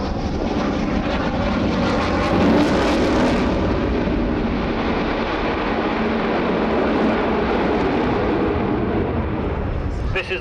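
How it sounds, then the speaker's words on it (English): Avro Vulcan bomber XH558 flying past, a loud broad engine roar that swells early and holds as a steady howling rumble, with a commentator talking over it. "Last Vulcan to fly with the RAF."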